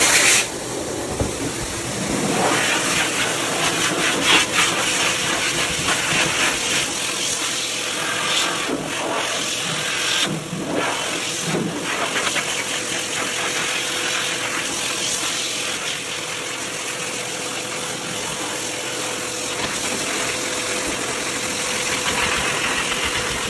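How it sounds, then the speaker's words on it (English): Flying Pig pet dryer with a flat-edged nozzle blowing air on a standard poodle during grooming, a loud, steady, close roar of rushing air with a motor whine that runs without a break. "So this is the Flying Pig dryer hose with the flat-edged nozzle. And I'm gonna turn this on."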